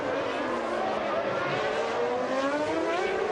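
Formula One cars racing at the 1992 Monaco Grand Prix, a high-pitched engine whine with rising and falling pitch, loud and continuous.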